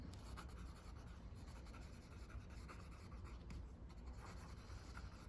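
A pen writes on paper in close, quiet, continuous scratching strokes, with no voices.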